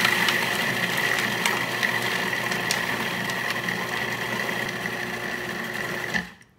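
Cuisinart machine churning strawberry sorbet, its motor grinding with a continuous mechanical whir and ratcheting gear texture, loud and close, before cutting off abruptly at the end.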